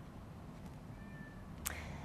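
A deaf white shelter cat gives a short, faint meow over a steady background hiss, followed by a brief sharp sound.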